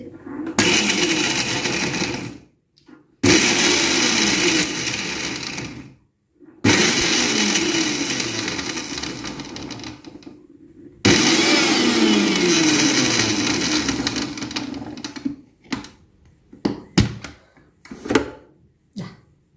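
Mixer grinding cinnamon, clove, fennel and cumin in loud whirring bursts of several seconds each, separated by short pauses, ending in a few brief pulses.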